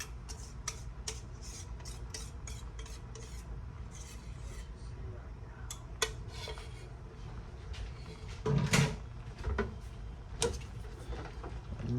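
A spoon stirs cheese sauce through cooked macaroni noodles in a pot, making continuous wet scraping and squelching with frequent small clinks against the pot, which grow louder and busier toward the end.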